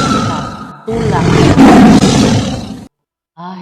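Hungry lions roaring as a story sound effect, a loud close roar swelling and sustained for about two seconds before cutting off, followed by a brief voice.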